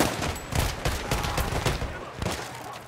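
Battlefield 1 team deathmatch battle in the Argonne Forest, with dense, continuous rapid gunfire and overlapping bursts from several weapons, loud and close throughout.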